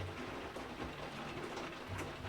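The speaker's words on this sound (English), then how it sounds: "I feel like I need to talk louder over the rain" Steady rain falling in the video game Slime Rancher, a dense, even hiss that fills the whole stretch without letting up.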